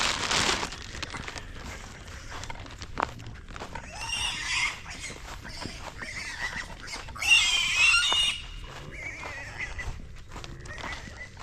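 Young pigs being moved from a front yard, squealing and grunting in bursts with shuffling, crinkling and hoof-like clatter close by, louder squeals rising midway and again toward the end.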